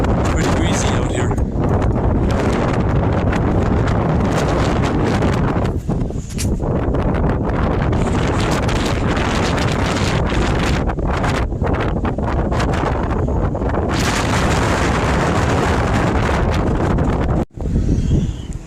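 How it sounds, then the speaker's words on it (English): Strong wind buffeting a microphone on the open deck of a cruise ship docked at Port Canaveral, a loud continuous roar with gusty swells and rustling, briefly dipping near the end. "It's pretty breezy out here."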